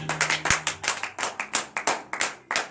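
A church congregation at a Saturday morning prayer service in Benin claps together in a steady rhythmic beat, the sharp hand claps fairly close and continuous with no talking over them.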